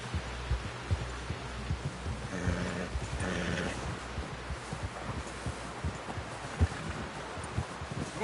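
A horse in Red Dead Redemption 2 walks along with soft, rhythmic clip-clop hoofbeats and a brief snort or whinny, fairly faint against a rustling outdoor background.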